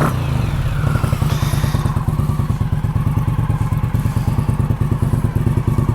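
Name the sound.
Indian Scout Bobber motorcycle engine, 1133 cc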